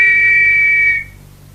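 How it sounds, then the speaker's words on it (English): A single sustained shrill whistle blast, loud and close, holding steady for about a second before cutting off into a quiet room. "I shall blow the whistle once more"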